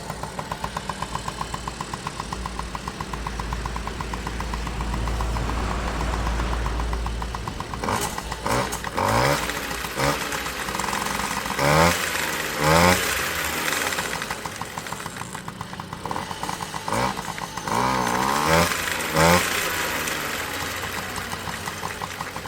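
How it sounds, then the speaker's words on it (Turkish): A Yamaha Galaxy motorcycle engine on its original cylinder and piston idles steadily with a close, even putter, then revs up in several short bursts before settling back to idle. "Orijinal silindir pistonumuzun sesini belki de son kez duyduk arkadaşlar."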